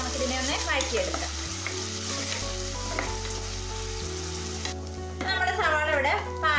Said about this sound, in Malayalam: ഇനി നമുക്ക് ഈ സവാള ഒന്ന് ട്രാൻസ്പെറന്റ് ആയി വരുന്നത് വരെ നമുക്കിതിനെ ഒന്ന് വഴറ്റിയെടുക്കാം.